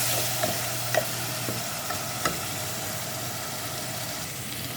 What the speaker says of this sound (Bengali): আদা রসুন পেস্টটা ভালো করে একটু কষিয়ে নেব যাতে গন্ধটা চলে যায়